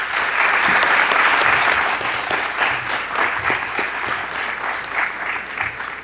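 An audience at a university convocation ceremony and luncheon applauds as the provost is welcomed to the stage, steady dense clapping from many hands that swells briefly and then slowly tapers off.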